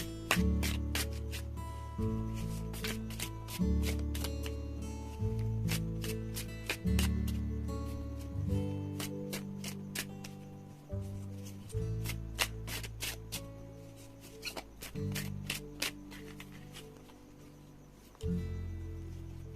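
Tarot cards are shuffled close up in repeated crisp riffles and slides, with soft background music playing underneath throughout.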